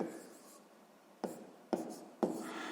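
Pen strokes scratch across paper while numbers are written out for a sixth-grade maths exercise, faint and close, with three sharper taps or marks near the end.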